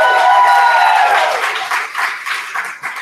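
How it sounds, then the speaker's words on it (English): An audience at a maker educator convening applauds a quick-talk presenter, loud close clapping that begins with a ringing tonal tail and then thins into scattered claps. "Another round of applause for Kennan Scott."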